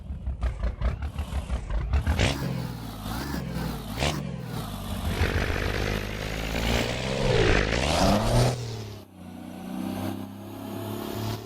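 An American Truck Simulator truck with a slightly less powerful engine pulls a 109-ton load. A pulsing low chug at the start swells into a deep, steady roar with shifting pitch, then drops to a quieter drone near the end.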